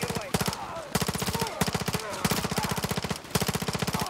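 Rapid automatic gunfire from the Modern Warfare 3 campaign rattles in several long bursts with brief pauses, loud and close, as a player sprays rounds at a bulldozer.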